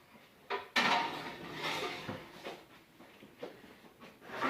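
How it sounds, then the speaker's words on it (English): A metal roasting pan set onto the bottom rack of an oven, with a sharp clank followed by several lighter scrapes and knocks, close and fairly loud. "put the roasting pan on the bottom rack."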